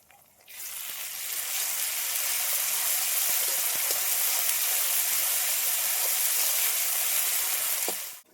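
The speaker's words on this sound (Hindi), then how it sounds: "जो सिलबट्टे पे सारे मसालों को हम पीसे थे वो हम इसमें डाल देते हैं और इसे भी चलाते हुए हम भून लेंगे।" Onions and spice paste ground on a stone grinder fry in a pan for a village-style kadhi, making a loud, continuous close-up hiss and sizzle that starts abruptly and stops after about eight seconds.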